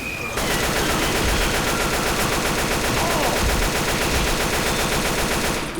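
Sustained rapid automatic gunfire in the Left 4 Dead 2 video game, a dense, continuous rattle of shots that starts abruptly and runs loud throughout.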